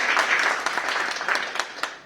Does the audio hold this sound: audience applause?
yes